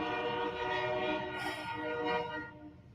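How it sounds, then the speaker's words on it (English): A train passes nearby with a long, loud horn blast, its sustained chord sounding over rolling rail noise for the full few seconds before easing slightly toward the end. "Shut up, you damn train!"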